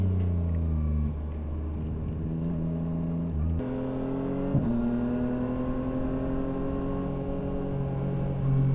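A Yamaha Tracer 9 GT motorcycle is ridden on the road, its engine droning steadily and shifting pitch through gear changes and acceleration, close and continuous with wind noise throughout.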